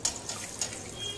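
A cup of milk poured into melted ghee in a pan for milk barfi, a short soft liquid splash and trickle, close and fairly quiet, with no talk.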